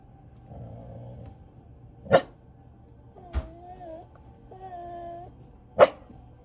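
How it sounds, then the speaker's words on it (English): A Doberman puppy growling at a cat indoors, low rumbling growls between a few sharp barks or yips, close and moderately loud with quiet gaps. "Doesn't like the growling."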